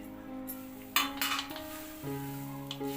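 Peanuts tossed and stirred in a pan for poha chivda, faint scraping and clinks of a spoon against metal with a few sharper knocks, quiet and close.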